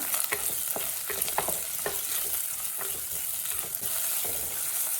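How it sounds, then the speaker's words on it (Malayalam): Tomato and drumstick pieces sauté in a pan of hot oil, a continuous crackling sizzle broken by repeated scraping stirs at an uneven rhythm, close and fairly loud throughout. "ഇതിലേക്ക് മുരിങ്ങയ്ക്കയും കൂടി നമുക്ക് ചേർത്ത് കൊടുക്കാം. ഇത് രണ്ടും കൂടി ഒന്ന് ചെറുതായിട്ട് വഴറ്റി കൊടുക്കാം."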